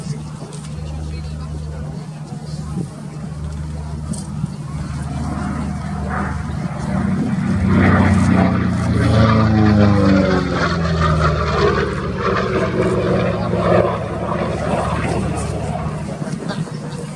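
A World War II propeller warbird with black and white invasion stripes flies a display at RAF Cosford airshow, its engine drone building from a distant hum to a loud, pitch-shifting pass overhead before easing off.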